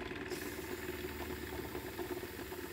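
A 3D-printed pulse motor winding down gives a steady low mechanical hum with a faint rattling vibration, close and fairly quiet, holding an even drone without voices.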